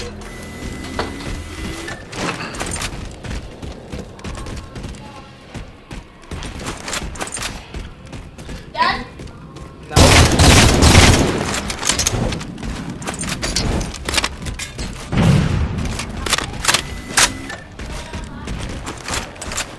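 Gunfire in a Halo 4 multiplayer gunfight on the Haven map: rapid bursts and single shots from game weapons, loud and close, with a dense, heavy stretch of firing midway amid other game sounds.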